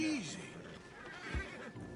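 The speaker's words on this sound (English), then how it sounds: "Marston, you're gonna tether him up to Javier's horse" A horse neighs in the video game Red Dead Redemption 2, a short descending whinny at the start followed by a snort and a brief hoof sound, under light background noise.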